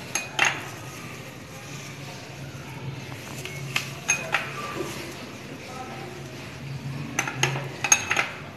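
A spoon spreads lemon over cut chicken pieces on a dish, with scattered light metallic clinks and scrapes against the plate and a few sharper taps near the end.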